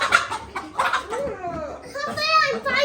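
Farm chickens cluck and squawk in short bursts while being chased and caught in a coop, heard close among excited children's and adults' voices and some laughter.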